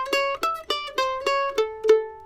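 A mandolin plays a brief run of about seven crisp picked notes, evenly spaced with alternating strokes, ending on a sustained ringing note, close and alone.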